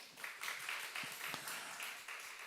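A church congregation claps together in a steady, fairly quiet wash of applause during a Sunday worship service, with no clear voices over it.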